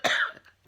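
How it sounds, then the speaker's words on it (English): A single close, harsh cough bursts out, followed by a softer trailing breath and a faint catch at the end, with no talking around it. "I just can't stop coughing."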